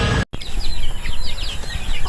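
Chickens cluck and chirp in a short burst of repeated calls close by, following a brief dropout, over steady background noise.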